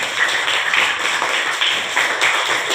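A class of students claps hands together in a mathematics lesson, a dense, lively burst of clapping with a slightly pulsing rhythm, close and fairly loud, with no talking over it.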